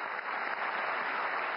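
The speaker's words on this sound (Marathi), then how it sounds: "शमीमा अख्तरसाठी पुन्हा एकदा जोरदार टाळ्यांचा गजर करूया" An audience at the 98th Akhil Bharatiya Marathi Sahitya Sammelan in Delhi applauds a singer with a steady, even roar of clapping, sustained and fairly distant, with no voices over it.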